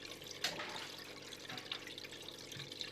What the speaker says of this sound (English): Turn on the filters and start the water flow.